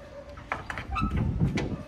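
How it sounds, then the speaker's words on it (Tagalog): A closed van's rear door, on an Isuzu 12 ft closed van with a 4JJ1 engine, is handled and swung open, with a few clunks and a sliding rumble, close by and moderately loud. "yung pintuan niya sa likod, kakaiba"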